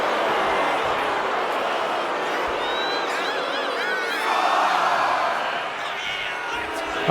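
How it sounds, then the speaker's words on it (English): A professional wrestling arena crowd roars and cheers continuously, swelling into louder whoops midway, with a commentator talking over the noise. "The crowd is fired up."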